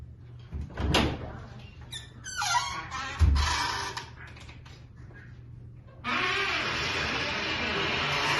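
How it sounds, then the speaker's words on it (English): Pull-out bed dragged from a closet in an old hotel room, giving intermittent squeaks and creaks with clunks and scraping, then a steady rushing noise for the last couple of seconds. "It's very creepy, especially with all this creaking."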